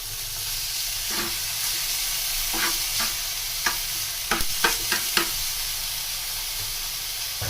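Garlic fries in a pan with onions already cooking in it, giving a steady hiss and sizzle of oil, while a utensil scrapes and stirs in a burst of sharp clicks partway through.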